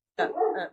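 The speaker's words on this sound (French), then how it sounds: "c'est mon chien qui aboie" A single short bark from a house dog, close and loud, standing alone with no talk over it.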